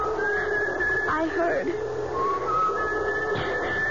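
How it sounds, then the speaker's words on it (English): A lone person whistles in a 1975 radio drama, producing thin, sustained tones that slide between pitches over a hissy background, with a voice speaking over them. "And then I heard someone whistling."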